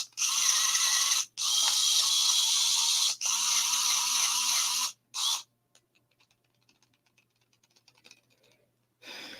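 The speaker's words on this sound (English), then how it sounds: "I break out this electric grinder" An electric grinder whirs in loud, steady bursts. Three long runs are broken by brief pauses, then a short burst comes before quiet clicking and handling noises.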